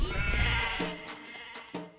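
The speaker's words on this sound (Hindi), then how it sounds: "भेड़ बकरियां भी उतरेंगी।" Sheep and goats bleat in a few loud, close calls, a long wavering bleat first and then shorter overlapping ones, with no talking.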